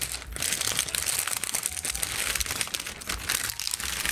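Plastic bags handled up close, crinkling and rustling loudly in continuous irregular bursts, with no talking.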